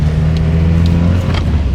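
A Toyota Celica engine idles steadily and loud up close after sitting unused for a couple of months, a constant low rumble with faint rattles and no voices.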